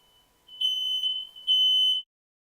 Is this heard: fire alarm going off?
yes